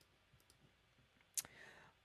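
A computer mouse gives a few soft clicks and then one sharper, distinct click while someone works in Photoshop, quiet and close in an otherwise still room.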